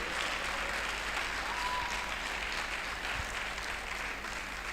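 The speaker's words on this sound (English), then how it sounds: "I think he deserves a round of applause" Applause breaks out at a Nigerian Bar Association Law Week gathering in Asaba for a branch chairman. A crowd claps in a steady, even wash for a few seconds over a low background hum.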